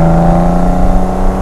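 A BMW 635 CS Hartge inline-six engine with three twin Weber 45 carburetors, making about 250 horsepower, runs loud and close with a steady, even engine note that does not clearly climb in pitch.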